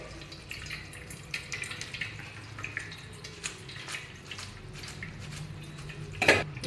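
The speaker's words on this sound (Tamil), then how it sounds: "கொஞ்சமாக கோல்டு வாட்டர் ஊற்றிக்கலாங்க" Cold water poured over cooked vermicelli in a kitchen: a soft, steady trickle with light splashes and drips, close by and fairly quiet, with one sharper splash near the end.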